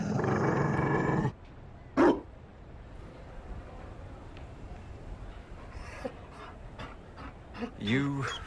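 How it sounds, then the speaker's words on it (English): A Mabari war dog in Dragon Age Inquisition pants quietly in short breathy bursts, with a low growl near the end, following an opening stretch of noisy activity. "You found a dog?"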